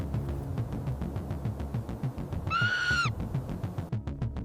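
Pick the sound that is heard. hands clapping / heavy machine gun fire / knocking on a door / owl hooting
owl hooting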